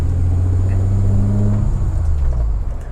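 Ford Escort XR3 fitted with a V6 engine revving, a deep steady engine note that drops and shifts after a moment, close and loud with no talk.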